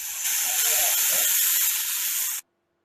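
A snake hisses in a loud, sustained, breathy rush held for a couple of seconds before it cuts off abruptly into silence.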